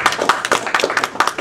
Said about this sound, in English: Guys, let's give a round of applause for Mike once again.